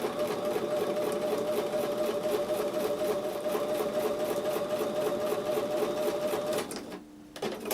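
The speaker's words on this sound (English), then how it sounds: "I'm going to take those back over to the sewing machine and sew with a 1/4 inch seam" A sewing machine runs a quarter-inch quilting seam in one steady, rapid mechanical whir that holds close and even before slowing and cutting out near the end.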